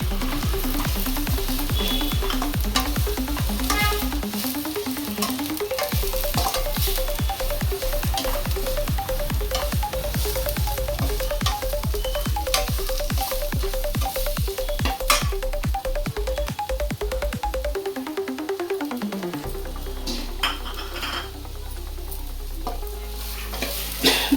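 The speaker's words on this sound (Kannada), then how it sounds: "ಈಗ ಈರುಳ್ಳಿ ಹಾಕೋಣ." Onions are fried in a pan for Indo-Chinese kabab chilli, with a steady close sizzle and repeated rhythmic scraping strokes of the stirring spoon, over a faint melodic tone in the background.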